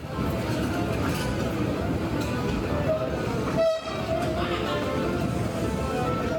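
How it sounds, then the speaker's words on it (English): Loud, steady rumble of a train in a busy Brussels station, with a short horn tone in the middle and a constant wash of background noise. "This was the train station."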